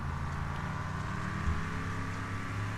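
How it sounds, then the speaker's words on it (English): Several car engines droning in sync in the racing game Wreckfest, a loud steady low-pitched hum with layered harmonic tones running continuously throughout. "The engines like synced together, so all I heard was"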